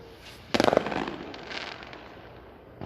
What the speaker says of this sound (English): Nope, back to the fireworks